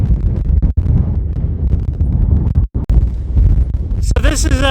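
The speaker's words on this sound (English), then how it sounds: "It's quite windy up here." Strong wind buffets the microphone on a butte hilltop near hang glider takeoffs, a loud, continuous low roar with gusty surges and a couple of brief drops, ending in a short burst of other noise.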